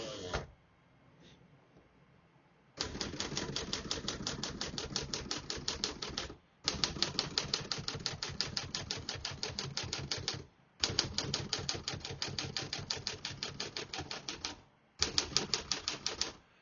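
Rapid keystrokes of a 1954 Remington Quiet-Riter portable typewriter clatter in long, steady bursts separated by brief pauses, loud and close, with no voices.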